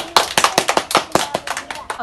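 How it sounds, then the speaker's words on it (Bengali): A small crowd claps together in quick, uneven bursts, close and lively, celebrating winners of a balloon-popping game. "সবাই হাততালি হয়ে যাক"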